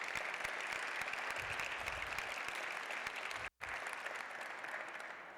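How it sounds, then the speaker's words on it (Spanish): Audience applause at a book presentation in the Jalisco State Congress, a dense, even wash of many hands clapping at a distance, steady throughout with one brief dropout. "Un aplauso al maestro,"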